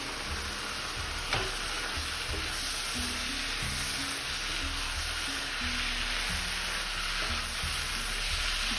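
Shredded cabbage tumbles into keema masala frying in a pan, bringing a steady loud sizzle with stirring and scraping throughout, no voices.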